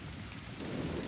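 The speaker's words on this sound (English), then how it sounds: "It's raining outside, for crying out loud." Steady rain with a low thunder rumble beneath it in the video game Trek to Yomi, a dense even wash that swells slightly toward the end, with no voices.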